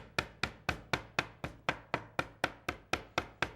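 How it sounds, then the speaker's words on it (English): A meat mallet pounds squid flat on a wooden board in a steady run of about twelve evenly spaced, sharp thuds, each decaying quickly, close and clear with no talk. "And hold the hammer nice and loose and let it fall nice and flat"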